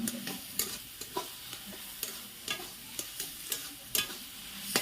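Taro greens and chickpeas sautéing in a hot pan: steady close sizzle and frying hiss, broken by regular sharp scrapes and clacks of a spatula stirring about twice a second, with no voices.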